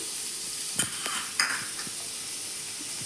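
Onions frying to brown for avalakki susla, a steady close sizzle with a couple of spatula scrapes and clinks against the pan.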